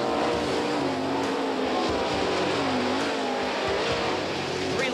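Sprint race cars roar around a dirt oval during an All Stars Circuit of Champions feature event, engines screaming loud and close as the pack comes off a turn, a constant rising and falling drone with faint commentary beneath.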